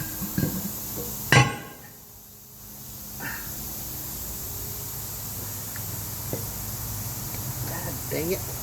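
Wheel studs being fitted into a Volvo wheel hub in a home workshop: one sharp, loud metallic knock early on, then quieter scattered clinks and handling sounds.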